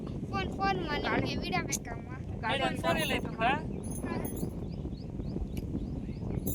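Outdoor wind buffets a phone microphone with a low rumbling roar throughout while people talk over it.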